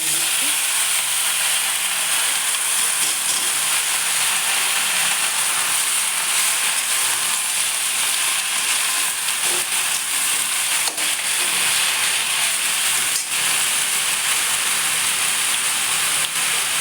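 Bichuti leaves fry in a pan with oil, a loud continuous sizzle and hiss close by, with occasional stirring clicks and no talk over it.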